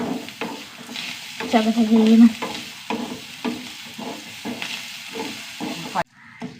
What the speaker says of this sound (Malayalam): നന്നായി വറുത്തെടുക്കണം